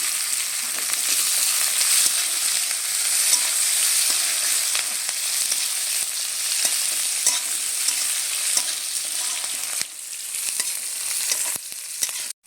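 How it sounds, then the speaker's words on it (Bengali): Onion and green chilies frying in hot oil in a pan, giving a loud, continuous, hissing sizzle that holds steady throughout, with a few faint clicks and a sudden drop at the very end. "পেঁয়াজ ভাজা হয়ে গেছে।"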